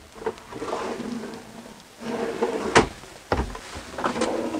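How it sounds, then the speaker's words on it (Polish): Long, deep drawers in a Carthago motorhome on a Mercedes chassis slide open and shut, with soft rumbling runs and a few sharp knocks as they close, heard close up. "Długie, głębokie szuflady."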